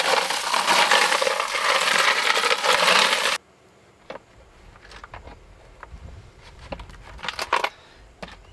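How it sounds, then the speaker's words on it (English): A rotary tumbler separator turns, sifting corroded RF adapters and connectors from tumbling media: a dense rushing rattle for a few seconds, then it stops and only sparse light clinks and ticks follow. "just revolve this slowly, and this separates our connectors from our tumbling media"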